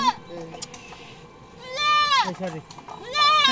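Two loud goat bleats, one around the middle and another at the end, with voices talking and background chatter throughout.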